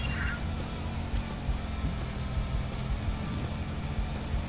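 Car engine in The Simpsons: Hit and Run video game, a steady low drone that runs loud and unbroken for the whole stretch, with no talk over it.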